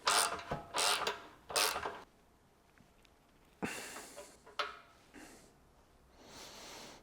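Ratchet tightening a new bolt and washer on a V12 BMW 850i suspension during restoration: three quick clicking bursts up close, a pause, then a few more ratcheting strokes and scrapes, fairly quiet overall.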